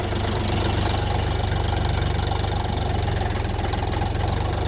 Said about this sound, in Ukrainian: Все, трактор поїхав